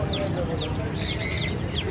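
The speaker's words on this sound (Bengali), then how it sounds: "মুরগি, দেশি মুরগি।" Native desi chickens at a busy pet market in Serampore give a few short clucks and chirps over a constant crowd murmur, close but brief.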